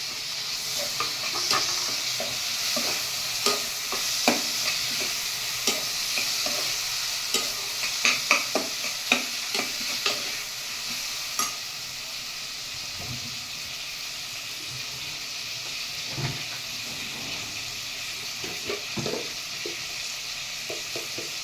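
Chopped tomatoes fry in a pan for masoor dal tadka, a soft steady sizzle broken by repeated clicks and scrapes of a spoon stirring, loudest early and calmer toward the end.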